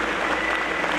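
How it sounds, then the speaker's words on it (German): An audience at a costume event applauds a woman called Frederike, a short, even burst of clapping at moderate level. "Frederike, dein Applaus hier für dich."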